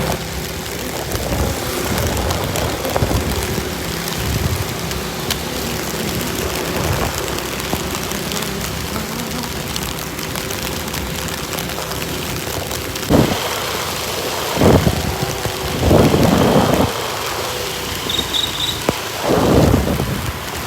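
Heavy rain pours down steadily during a thunderstorm, a loud continuous roar broken in the later part by several deep rumbling thunder peals.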